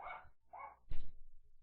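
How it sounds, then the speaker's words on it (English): A dog barks three times in quick succession, the first two clear mid-pitched woofs and the last a lower, heavier bark, fairly close and alone. "a dog's barking"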